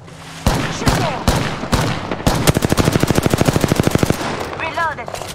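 Gunfire in a squad-based video game shooter: a few sharp separate shots, then a fast steady automatic burst of about twenty rounds, loud and close, with brief speech around it.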